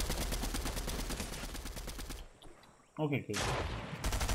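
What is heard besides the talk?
shotgun shot in the video game Fortnite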